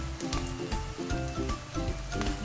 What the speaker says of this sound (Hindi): अब इसमें ऐड करेंगे हम साबुत लाल मिर्च आधा चम्मच